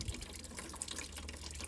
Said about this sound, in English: Kind of pouring everywhere.